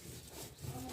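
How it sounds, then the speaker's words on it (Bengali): Banana peel being ground by hand on a stone grinding slab, a steady rough scraping and rubbing in close back-and-forth strokes that grow louder toward the end. "আর এখন আমি অল্প অল্প কলার খোসা দিয়ে বেটে নেব।"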